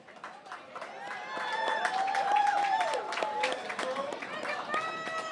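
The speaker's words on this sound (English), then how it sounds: "Let's give Andrew a round of applause." An audience claps and cheers for Andrew on a sports talk show. The applause rises, holds steady, and fades slightly toward the end, with voices calling out over it.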